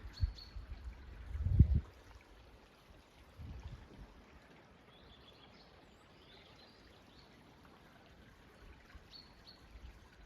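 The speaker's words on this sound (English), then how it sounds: "you can just hear the brook trickling along" A brook trickles faintly and steadily near Edin's Hall in the Scottish Borders, with a few heavy thumps near the start and soft, distant bird chirps.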